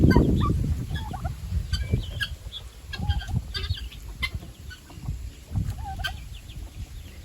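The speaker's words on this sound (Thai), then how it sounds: "ไก่งวงไก่บ้านไก่ต๊อกอันนี้" Turkeys gobble and chickens and guinea fowl cluck in a noisy barnyard mix at a livestock pen, with rustling and low thumps close by.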